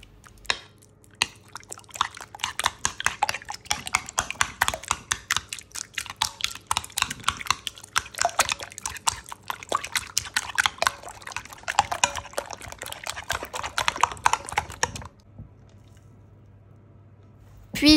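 Eggs and cream cheese, seasoned with garlic and herbs, are mixed in a bowl until smooth and creamy, giving a fast run of close, wet squishing and slapping strokes that stops abruptly near the end.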